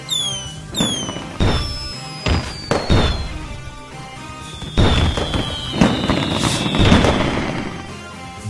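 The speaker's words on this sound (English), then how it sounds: "Fireworks!" Fireworks in the Mortal Kombat video game: whistling rockets rising, then a string of booming bursts and crackles over a busy, continuous background.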